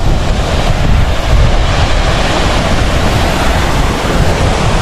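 Strong wind buffets the microphone over rushing stream water at Kaldari near Purandar, a loud, steady broadband roar that stays constant throughout with no voices.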